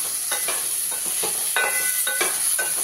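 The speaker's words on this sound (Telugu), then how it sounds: "ఒక 1/2 స్పూన్ అంతా ఆయిల్ వేసి ఫ్రై చేసుకుందాం." Sliced okra frying in about half a spoon of oil: a steady close sizzle, with a quick series of scraping and clinking stirs spread across roughly three seconds. No voices.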